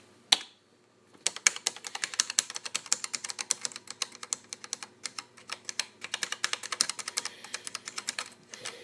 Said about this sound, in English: Keyboard is pretty typical of the day, kind of nice to type on, but not really mechanical.